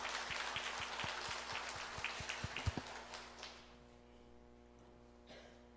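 A church congregation applauds during a worship service, a scattering of claps that thins out and fades over a few seconds into a quiet room hum.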